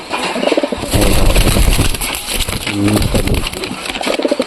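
Crested pigeons coo loudly and close by in repeated deep throaty bursts, a male and female calling back and forth, with fluttering and cage noise around them.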